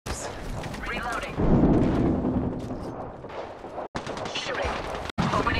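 Rapid automatic gunfire in the shooter game Apex Legends, loud and dense bursts with booming impacts, overlaid by game voice callouts, with two abrupt brief cutouts near the end.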